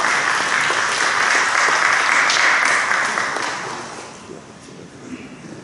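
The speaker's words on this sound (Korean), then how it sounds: "우리 박수 한번 해주시기 바랍니다." Audience applause at a church general assembly policy debate in Korea, a loud burst of many hands clapping that holds strong for a few seconds and then tapers off into a quieter room.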